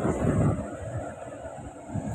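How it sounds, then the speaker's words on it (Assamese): Air conditioning in a Tata Punch car blows with a steady airy hiss and a constant whirr, fairly close and even throughout, with a brief low rumble at the start. "বহুত স্পীড হয় এচিটো। আপোনালোকে শব্দ শুনিবলৈ পাইছে চাগে,"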